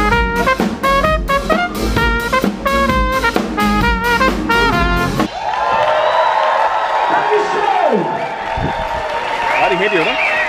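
A festival crowd applauds and cheers for a band, first as rhythmic clapping under music for about five seconds, then as broad clapping, whoops and cheering that carry on while a voice talks over them.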